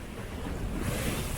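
Sea water receding and pouring down a hole in the rocks on the coast, a continuous broad rushing wash of surf close by, with some wind noise across the microphone.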